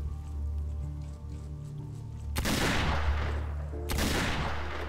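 Two sharp bursts of gunfire from people shooting at each other crack out close and loud, about a second and a half apart, over a low steady hum.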